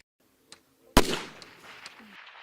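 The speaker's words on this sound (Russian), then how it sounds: "Далее президент сам сделал несколько выстрелов по мишени." A single sharp gunshot cracks loudly at an outdoor practical shooting range, followed by a fading echo and a few faint pops and clicks nearby.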